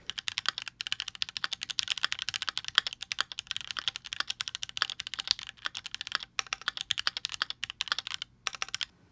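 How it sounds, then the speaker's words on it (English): Typing on a stock, unmodified Keychron Q2 mechanical keyboard with its original switches: a rapid, close stream of crisp keystroke clicks and clacks, broken by brief pauses, with no voices. "this is what the Q2 sounded like with no modifications and stock switches"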